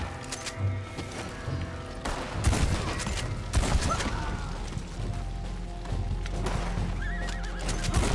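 A horse whinnies and hooves clatter amid bursts of gunfire as the animal is shot in the Red Dead Online video game, with a loud, busy mix of crashes and repeated neighs.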